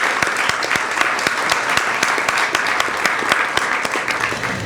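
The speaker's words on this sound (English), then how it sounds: "we could please have a round of applause in recognizing her for her dedication" An awards ceremony audience claps together in steady, dense applause for an honoree. The sound stays even and sustained throughout, with no talking over it.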